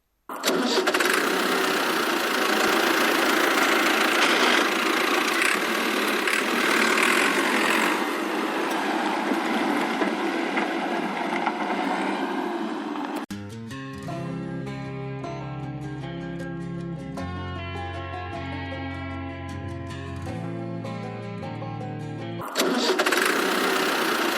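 A mini tractor engine cranks and catches, then runs with a loud rough diesel-like rattle, drops to a steadier lower idle with a pulsing beat partway through, and roars up again near the end; no talking.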